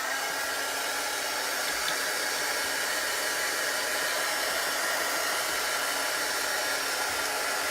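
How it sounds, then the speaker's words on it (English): A heat gun dries a Chalk Couture transfer on canvas, a constant loud, close blowing whoosh that holds steady without a break. "I'm going to take my heat gun and dry it a little bit"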